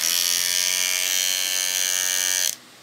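An electric clipper fitted with ceramic blades buzzes steadily with a bright, harsh whine, running continuously up close before cutting off abruptly near the end.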